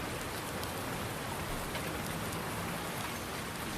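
A downpour in Farming Simulator 19 on the Midwest Horizons map, with the Seasons mod, comes through as a constant, close, loud rushing hiss that does not let up for a few seconds.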